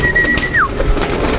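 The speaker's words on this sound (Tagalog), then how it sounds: "So tawagin natin mga kalapati natin." A single steady whistled tone slides downward, calling racing pigeons, then soft low cooing and faint rustling follow up close.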